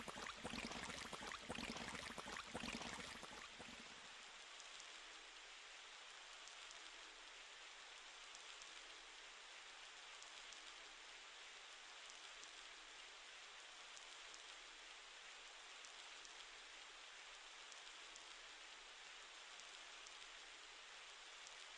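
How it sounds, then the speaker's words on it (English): Rain falling in the video game Sonic Adventure: a dense, steady hiss of downpour that is louder for the first few seconds, then continues evenly and softly to the end. "The rain effects are really good here."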